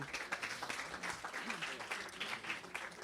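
An audience at a live semi-final show applauds as three co-directors of a comedy theatre are welcomed, a steady wash of clapping lasting about three seconds, with voices audible through it.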